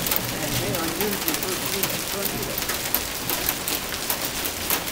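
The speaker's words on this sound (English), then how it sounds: "We have hail right now pounding the parking lot." Hail pounds a parking lot during a severe storm, a dense, continuous clatter of hard impacts filling the air with steady, loud rattling.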